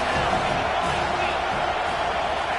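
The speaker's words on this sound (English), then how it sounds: "Big third down as the crowd gets behind this defense." A stadium crowd in the NCAA 25 college football video game roars in a dense, continuous wash of cheering during a big third-down defensive stand.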